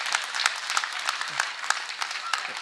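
Scattered audience clapping at a political stage speech in Tamil Nadu, a steady patter of individual claps with occasional voices and murmur mixed in throughout.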